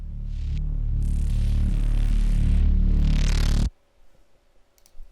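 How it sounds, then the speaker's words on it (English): Synth riser built with the Flex synth for DOOM sound design, a dense rumbling swell that thickens and brightens over about three and a half seconds, then cuts off abruptly into near silence with faint clicks. "this riser, which I created also, I think, with flex"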